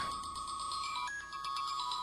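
A phone ringtone plays steadily and loud, a repeating electronic melody with no talk over it.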